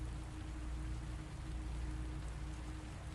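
Steady rain falls continuously, a dense even hiss with a low rumble beneath, unbroken and with no voices.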